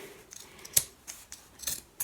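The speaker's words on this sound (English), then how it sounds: "I've just got a pair of fabric scissors here" Fabric scissors cut the hems off an old garment, close by, in about five short, sharp snips spread unevenly, with no voices.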